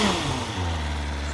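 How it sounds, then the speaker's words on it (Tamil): A BMW S1000RR superbike with its stock exhaust revs once, the engine note swelling and then settling back toward a steady idle, loud and close. "ஸ்டாக் எக்ஸாஸ்ட் இதோட சவுண்டு தான் பாருங்கள்"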